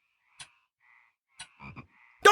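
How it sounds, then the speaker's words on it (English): Frogs croak in short, scattered bursts, a few sharp calls spaced apart with near silence between them, and no voices. "Oh, are those the frogs?"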